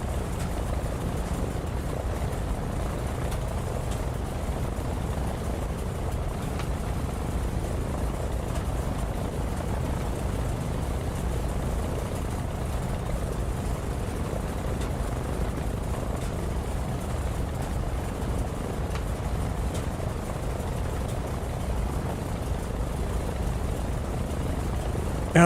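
A B-25J bomber's engines in a flight simulator game drone steadily and loudly throughout a taxiway takeoff, a continuous broad rumbling roar without talking.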